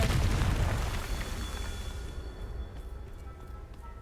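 A Confringo explosion spell from Hogwarts Legacy bursts with a loud, deep boom at the start, then rumbles and fades away over several seconds.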